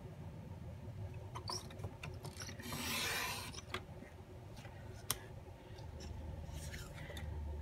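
A blade slices a photo mat board lengthwise, giving a soft scraping rasp with scattered light taps and clicks, one longer drawn-out cut in the middle, quiet and close.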